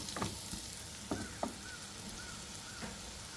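Ingredients for butter paneer curry sautéing in a pan give a steady, moderate sizzle, with a few sharp stirring clinks and scrapes breaking through at irregular moments.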